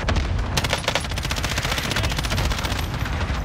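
Sustained rapid automatic gunfire in the video game Call of Duty: Modern Warfare, dense loud bursts of shots rattling continuously for several seconds.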